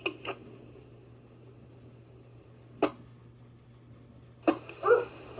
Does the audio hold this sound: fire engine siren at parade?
no